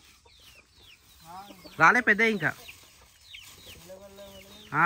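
Rooster and hens clucking in a village yard, with several short clucks and one louder burst of calls close by, while people talk nearby.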